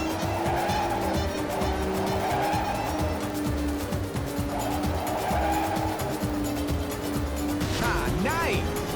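Tires squeal through a drift in the PSP racing game Ridge Racer 2, a steady high screech riding over constant engine roar and rising near the end, with excited talk over the racing audio.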